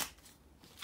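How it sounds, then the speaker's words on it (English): Tarot cards being shuffled by hand, a soft papery riffle at the start, again at the end, with quieter rustling between them. "So let me finish the shuffle and see what you guys got."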